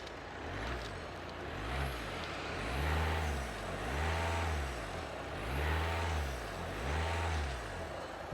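A 2007 Audi A3 2.0 diesel engine runs and is revved about five times in a steady rhythm, each rise swelling and falling back to a rumbling idle, heard close and loud with no talking.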